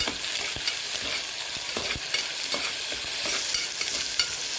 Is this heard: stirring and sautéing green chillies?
yes